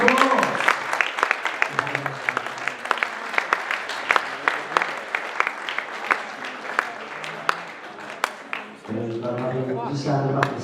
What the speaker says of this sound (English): Bartholomew, give him a round of applause.